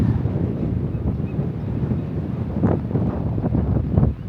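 Strong coastal wind buffets the microphone at a rocky, picturesque beach, a loud continuous roar with gusty surges that grow rougher toward the end, with no voices.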